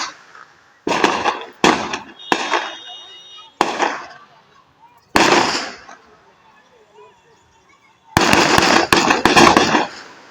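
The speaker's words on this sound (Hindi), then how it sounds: "ये गोलियां चल रही हैं" Loud bursts of rapid gunfire in a Hindi news report about a shootout in Mokama village, Bihar, between strongman Anant Singh's convoy and a gangster brothers' group, coming in clustered volleys separated by quieter gaps.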